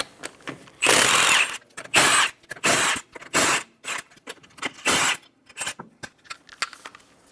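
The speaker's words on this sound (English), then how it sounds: "Using a 19mm socket, remove the 5 lug nuts." A power tool spinning a 19mm socket removes the lug nuts from a Chevrolet Sonic front wheel, firing in several loud short bursts with gaps between, followed by lighter clicks and clatter.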